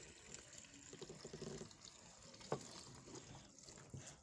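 Water runs steadily into the tub of a manual washing machine, a faint continuous splashing and trickling with a few small knocks, no voices.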